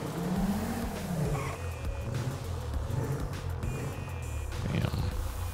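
A car engine revs in the video game GTA 5, a heavy, throaty roar that holds steady at high level throughout, with tire squeal and skidding on top and a brief surge near the end.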